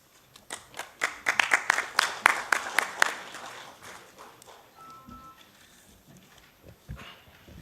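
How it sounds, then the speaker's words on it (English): An audience at a workshop claps before a speech, a scattered burst of hand claps that is dense at first and then thins into a few sparse claps and quiet room noise. "Thank you, first of all, for a clapping before intervention."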